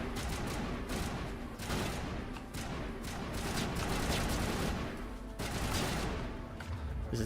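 Video game gunfire comes as a continuous dense barrage of overlapping shots and booms, loud and unbroken for several seconds with little pause.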